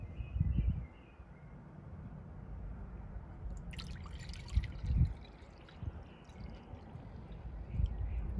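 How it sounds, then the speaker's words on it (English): Water poured from a cup into a pet's water bowl, a soft trickle and splash with a few brief drips and louder pouring surges over a low, steady background. "Let's see how many cups of water each bowl can hold."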